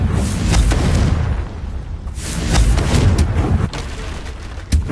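Confringo fire spell cast in Hogwarts Legacy combat, heavy booming blasts in close succession with rumbling impacts, followed by sharper hits near the end.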